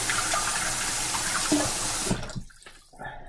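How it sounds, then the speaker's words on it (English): Tap water runs steadily as hands are rinsed beneath it, a close broadband splash that cuts off after about two seconds, leaving a few faint drips and small kitchen noises. "I'm going to rinse my hands real quick."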